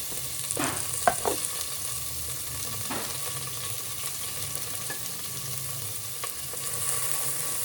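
Onion and curry leaves sautéing in a pan for banana stem soup, a continuous close sizzle with a few soft stirring scrapes near the start and a faint tap later on.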